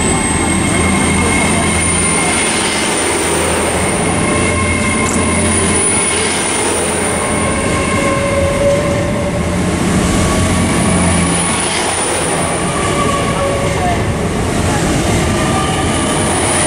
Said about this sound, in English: departing now is the 1523 Great Western Railway service